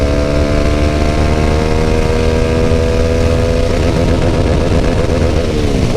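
A motorcycle with an opened-up exhaust runs hard at speed on an empty road, a loud continuous engine drone whose tone shifts partway through as it climbs through the gears.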